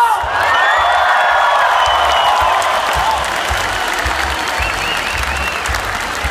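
Big concert crowd at the Feria de Puebla 2017 applauding steadily with scattered cheers and whoops. The dense, continuous clapping stays loud throughout, with no break.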